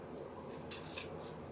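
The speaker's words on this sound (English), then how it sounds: "I like these scissors because they're sharp" Sharp scissors make a few quiet, crisp snips in quick succession, likely cutting ribbon for a sunflower mailbox swag, heard alone in a hushed room.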